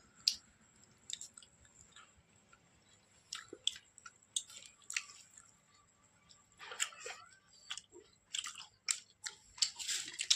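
Close, quiet chewing of a cooked spinach dish, wet and soft with occasional crisper bites, coming in irregular bursts that grow busier toward the end, with no talk over it.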